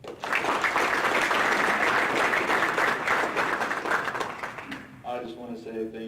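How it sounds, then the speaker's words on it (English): A crowd at a football banquet claps steadily and warmly for several seconds, then the applause fades as a voice begins speaking. "So if we give a round of applause for them."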